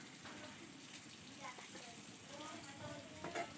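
Curry leaves dropped into hot oil in a pan sizzle and crackle steadily, a continuous frying hiss with a few sharper pops, close and moderately loud, with faint kitchen sounds underneath.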